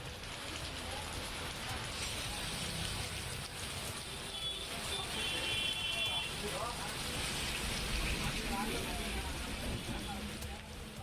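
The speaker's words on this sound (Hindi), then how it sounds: "तिरुपति शहर के कई हिस्सों में जोरदार बारिश हुई है" Heavy monsoon rain falls in the city of Tirupati, Andhra Pradesh, making a constant broadband hiss of drops striking surfaces. It holds steady at moderate loudness throughout, with faint traces of other sounds beneath.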